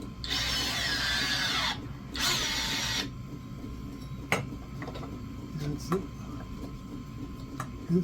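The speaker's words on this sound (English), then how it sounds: "you press and hold the button until it finishes its cycle" Zupper battery-powered press tool running its pressing cycle in a vise, two loud motor whirs lasting a few seconds each, close up, followed by quieter clicks and knocks while a person talks.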